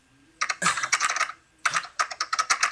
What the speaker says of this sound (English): That's aggressive typing right there.